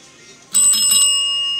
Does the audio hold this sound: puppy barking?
no